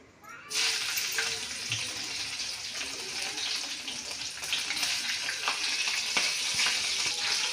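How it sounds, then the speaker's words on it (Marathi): Ginger garlic paste is dropped into hot oil for a chicken dish, starting a sudden loud sizzle that holds steady and close with scattered crackles, no talk heard. "आणि आता आलं लसूण पेस्ट टाकून तेलामध्ये टाकून घेणार आहे"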